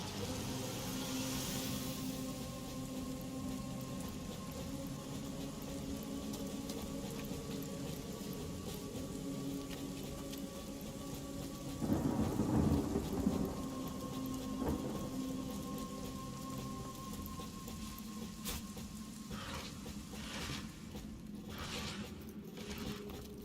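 Steady rain falls with rolling thunder in the fantasy video game Divinity: Original Sin, a continuous hiss with a low rumbling swell in the middle and faint crackles near the end, with no voices.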